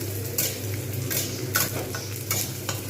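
Onions frying in a pan for a Bengali fish-roe fritter curry, a steady dense sizzle with soft bursts of stirring scrapes at regular intervals, close and continuous with no talk.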